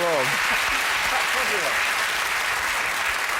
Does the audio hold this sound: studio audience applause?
yes